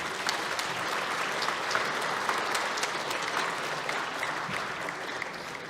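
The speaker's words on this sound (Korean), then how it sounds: "여러분 박수 한번 부탁드립니다" Sustained applause fills a parliamentary chamber as members welcome a visiting council delegation, a dense, even wash of many hands clapping at moderate distance, steady throughout with no break.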